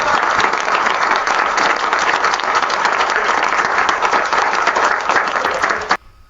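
An AI-generated round of applause from a middle-sized group of roughly 30 to 40 people: dense, steady clapping close up for about six seconds, then an abrupt stop.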